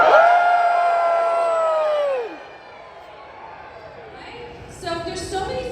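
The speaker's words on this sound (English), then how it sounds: "I want everybody to cheer without clapping" Convention panel audience cheering with voices only and no clapping: a big crowd roar of whoops and yells that fades out, a quiet lull, then a second burst of scattered shouts.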